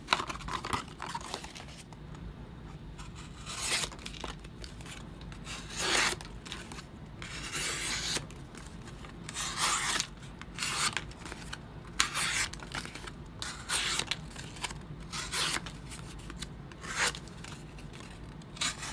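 Kizer Rattler pocket knife slicing through a clunky cardboard box, with repeated rasping cuts and tearing, crinkling scrapes in short bursts across the whole stretch, close and moderately loud with no talking.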